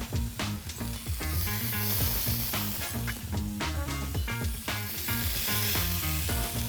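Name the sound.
spinach and cheese stuffed chicken breast sizzling in hot pan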